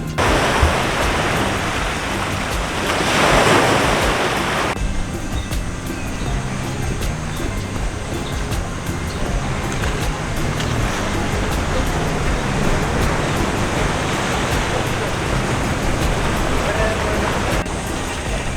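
Surf washing onto a rocky granite beach with creamy sand on the warm Puerto Vallarta coast, a loud, steady broadband roar with a brief swell near the start and no talk.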